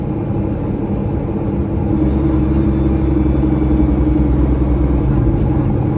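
A vehicle's engine brake holds a loud, deep, steady rumble close up, swelling heavier through the middle stretch before easing slightly at the end, with no talk.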